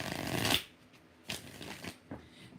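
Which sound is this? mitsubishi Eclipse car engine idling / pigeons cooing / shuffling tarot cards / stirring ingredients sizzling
shuffling tarot cards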